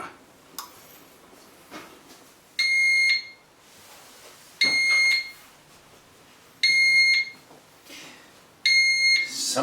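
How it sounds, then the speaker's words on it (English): A kitchen timer beeps in four evenly spaced bursts of rapid, piercing electronic tones about two seconds apart, with quiet kitchen clatter between them and no talking. "Summoned by the beeps."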